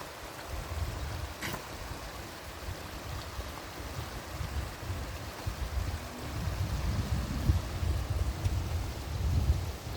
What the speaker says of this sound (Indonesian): Bagus suara sungainya. Sungai mengalir.